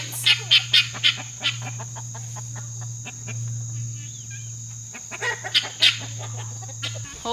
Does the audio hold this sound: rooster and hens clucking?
yes